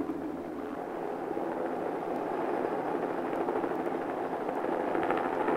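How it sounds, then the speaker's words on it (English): A helicopter's steady engine and rotor drone, constant and fairly distant, with no voices over it. "For the crew in the helicopter, it's cold and noisy"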